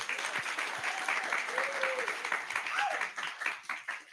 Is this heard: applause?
yes